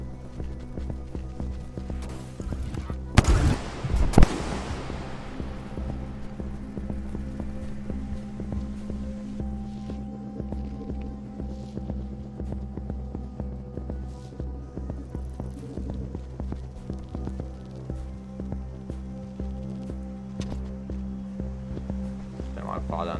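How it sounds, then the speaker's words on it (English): A swarm of drones attacking in the video game Rain World produces a steady, loud throbbing hum with a pulsing beat, joined by two brief sharp bursts near the start. "It's a bit loud when there's a lot of drones."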